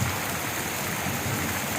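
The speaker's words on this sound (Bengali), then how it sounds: "এই যা এলো বুঝি বৃষ্টি" Steady rain falls outside a home on a rainy day, a continuous broadband hiss of drops on surfaces with no breaks, moderately loud and close, with no voices over it.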